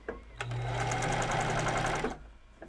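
A sewing machine stitches through bulky fabric in one continuous close whirring run of about a second and a half, starting and stopping abruptly with faint clicks on either side.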